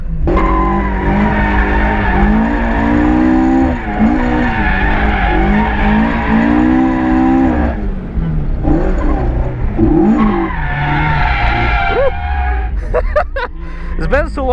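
A Toyota AE86 with a 4A engine skids around a race track, its engine revving up and down in long sweeps with tire scrub, then sharper squeals near the end, loud and close.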